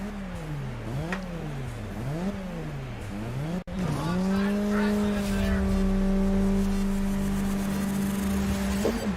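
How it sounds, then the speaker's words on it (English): Racing car engine in the video game Grid, whining up and down through repeated revs and gear shifts, then holding a steady high drone, with a brief tire-squeal texture and a sharp break partway through. "Wow, look at Bowser's car"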